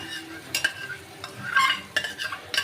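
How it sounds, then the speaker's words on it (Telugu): A spoon scrapes and stirs almond paste into fried semolina in a pan while making almond halwa, with a faint sizzle underneath. There are several close, uneven stirring strokes and no talk. "మొత్తం బాదం పేస్ట్ అంతా ఇందులో వేసుకొని ఇప్పుడు మనం కలుపుకుంటూ రావాలి"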